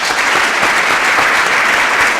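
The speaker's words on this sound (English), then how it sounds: "but give him a round of applause." An audience applauds a high school jazz pianist at an arts event, with dense, steady clapping from a sizeable crowd throughout and no speech.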